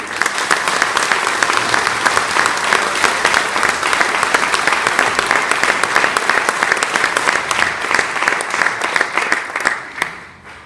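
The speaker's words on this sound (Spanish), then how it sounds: "Entonces, le damos un fuerte aplauso." A large audience at a marriage congress conference breaks into strong, sustained applause, loud dense clapping that holds steady before tapering off at the end.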